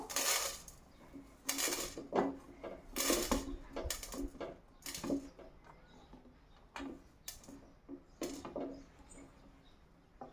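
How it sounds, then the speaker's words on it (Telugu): Peanuts and coriander seeds dry-roasted in a pan make scattered clinks and scraping rattles, quiet and intermittent, in short clustered bursts separated by near-silent gaps. "పల్లీలు వేగాక నెక్స్ట్ ధనియాలు వేయించుకుందాము"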